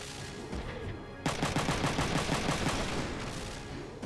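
Gunfire in Front Mission 3 comes as a rapid, evenly spaced burst of mechanical shots that starts abruptly and runs for nearly three seconds. It is loud and close over a steady synthetic game hum.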